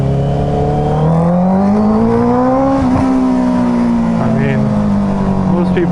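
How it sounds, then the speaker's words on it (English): A loud motorcycle engine drones steadily nearby, its exhaust note rising slightly and then settling, with no pauses. "Mostly would likely be because of this badass exhaust."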